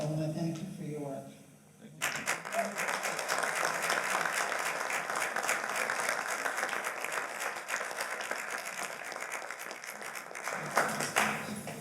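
Applause rises from the audience at a Martin Luther King commemoration after a brief stretch of speech, sustained, fairly loud clapping that fills the room for about nine seconds before thinning out.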